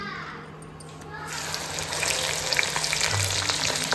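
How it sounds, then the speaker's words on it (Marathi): Okra (bhindi) sizzles in a hot pan, added a little at a time. The first second is quiet, then a loud, steady frying hiss swells up close and holds to the end. "भेंडी फ्राय करायला घेतले आहे"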